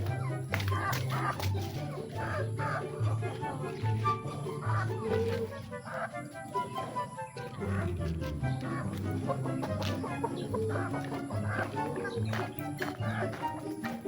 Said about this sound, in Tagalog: Yung mga manok natin, hindi pa natin pakain.